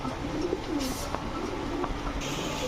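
Pigeons, including female birds kept for sale, coo in low, soft, repeated throaty calls close by over a steady background murmur.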